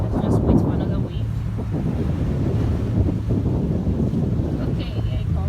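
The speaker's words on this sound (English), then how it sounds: "Let's just wait for another wave." Ocean waves washing onto a beach, a steady broad rush of surf mixed with wind buffeting the microphone, continuous and fairly loud throughout.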